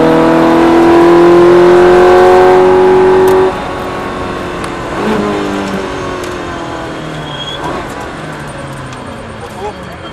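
A Ferrari F430 on a racetrack, its engine revving up in a steady rising drone that holds strong for a few seconds, then drops back to a softer, varying hum as the car runs on at lower load, with an instructor talking over it.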